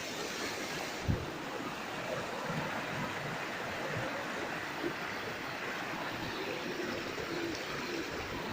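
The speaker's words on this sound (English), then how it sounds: "I am showing you waterfall." Sahastra Kund waterfall in Maharashtra, a constant broadband rushing roar of falling water heard steadily from a distance, with one faint thump near the start and no talking.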